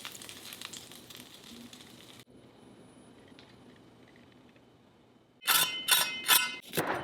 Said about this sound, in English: Do you hear that sizzling sound?